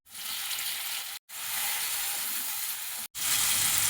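Browned onions and freshly added chopped tomatoes fry in a pan with a loud, steady hiss. The sizzle breaks off twice, very briefly, and resumes at once.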